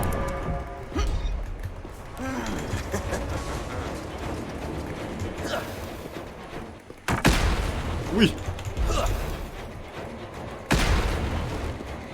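Bombs in the game Propnight set off several loud booming blasts over a busy, noisy game background, with sharp bursts spaced a few seconds apart.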